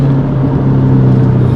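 A built turbocharged Subaru WRX pulls hard under acceleration, its engine and turbo spooling in a loud, steady, close roar that fills the whole moment with no voices.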